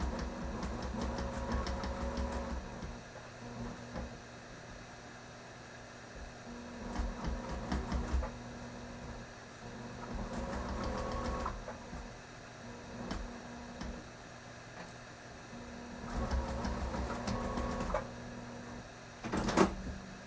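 A sewing machine stitches pocket pleats held down by the presser foot, with several short runs of steady mechanical whirring separated by pauses, close and moderately loud.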